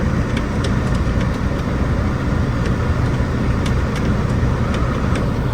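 A car engine runs steadily with road noise while someone learns to drive a manual-transmission car, a continuous loud rumble and no talk.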